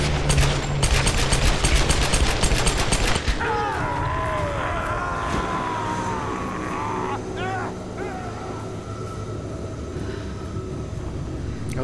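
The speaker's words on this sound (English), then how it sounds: "They're the dual pistols." Rapid gunfire from dual pistols in the Tomb Raider game, a fast burst of sharp shots in the first three seconds, followed by game ambience with tonal effects and faint voice-like sounds.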